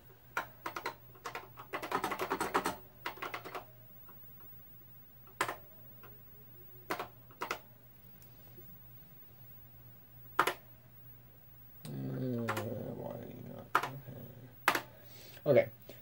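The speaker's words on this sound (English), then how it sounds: "We can start typing." Keys clacking on a 1980s portable computer keyboard while typing in WordStar: scattered single keystrokes and short bursts of quick clicks over a low steady hum, with a voice speaking briefly near the end.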